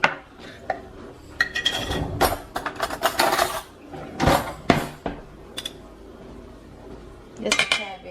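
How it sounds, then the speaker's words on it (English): Seasoned taco meat mixed with minced garlic in a pan: scattered metal utensil scrapes and clinks against cookware in irregular bursts, fairly close, with pauses of quieter background between. "I'm going to give that a mix."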